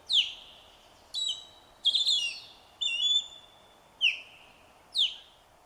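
An osprey calls to its mate overhead near a pond, giving six sharp, whistled, slightly descending cries at roughly one-second intervals, clear and close with no talking.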